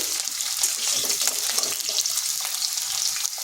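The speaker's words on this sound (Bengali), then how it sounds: "আলুগুলো একটু ভেজে নিচ্ছি" Potatoes frying in a pan for shukto, a dense, loud, continuous sizzle and crackle close up, steady throughout with no pauses.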